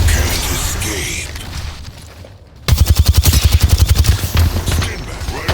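Automatic weapon fire in the battle royale shooter Apex Legends on the World's Edge map, a loud close burst of rapid, evenly spaced shots following a rushing stretch of combat noise.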